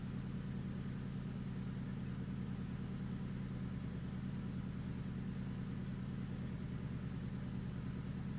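Subaru EJ20 engine on a Link G4x ECU idling just after being fired up, a steady loud low drone with an even, unbroken pulse and no talking over it.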